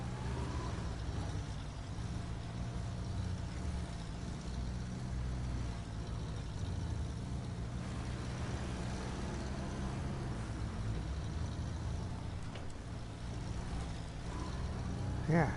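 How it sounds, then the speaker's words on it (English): A heavy truck engine in the off-road game Snowrunner rumbles steadily nearby as a constant low drone, with no talk over it. "I hear a truck somewhere near me."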